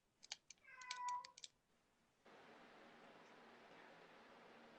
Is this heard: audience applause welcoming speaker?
no